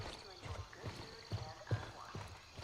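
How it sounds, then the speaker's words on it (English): Footsteps in the video game Gray Zone: a run of soft, rhythmic thuds at close range, mixed with other game sounds and a voice underneath. "Oh, I hear footsteps."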